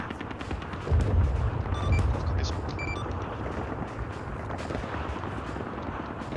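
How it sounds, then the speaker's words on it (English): Distant gunfire in the military shooter game Arma 3, rumbling bursts and scattered shots rolling in with a heavy low boom around the first few seconds, then continuing as a steady background crackle of combat with faint voices. "what is the shooting to our northwest?"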